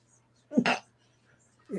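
A single short, sharp sneeze bursts out of near silence, followed by a brief quieter vocal sound at the very end.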